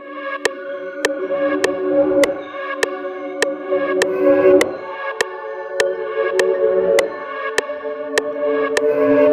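Layered music sample for a beat, with soft sustained chord pads and a crisp, regular click-like tick repeating roughly every 0.6 seconds, playing steadily without any voices.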